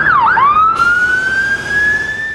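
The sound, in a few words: ambulance siren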